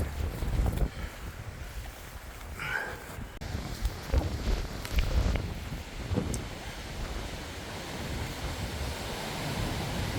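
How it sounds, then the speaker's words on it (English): Strong Alaskan wind buffets the microphone in loud, rumbling gusts, with a brief whistling tone and clattering noises mixed into the roar. "it's just super windy, so sorry if there's crazy amount of noise"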